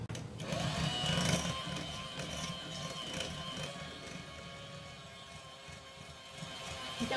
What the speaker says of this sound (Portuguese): Peguei meia xícara de manteiga e vou bater com 1 xícara e meia de açúcar.